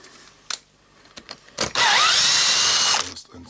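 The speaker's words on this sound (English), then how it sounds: "Just unscrewing the screw." Power tool whirring briefly on a Hilti TE905-AVR breaker while a screw comes out of its housing, a loud steady burst of about a second and a half after a few short clicks and bumps.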